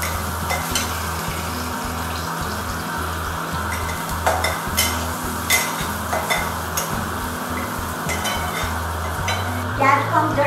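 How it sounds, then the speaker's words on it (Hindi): Onions frying in hot oil with cumin and asafoetida for a baby corn and peas sabji, a loud steady sizzle with repeated rhythmic spoon strokes scraping and clinking against the pan throughout. "प्याज को हम थोड़ा पका लेंगे"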